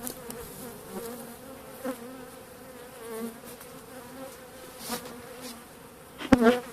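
Caucasian and Carniolan honey bees buzz steadily around an uncompressed hive readied for winter, a dense continuous drone with occasional closer passes and a sharp nearby bump near the end, no voices.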